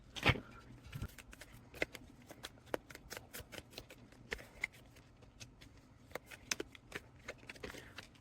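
Tarot cards being shuffled by hand in a quiet room, a run of crisp, irregular riffling snaps and flicks that come close and fairly soft, with no voices.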